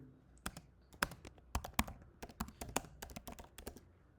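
Keystrokes on a computer keyboard while HTML heading code is entered, a quiet, irregular run of sharp clicks in short bursts with brief pauses, no voice over them.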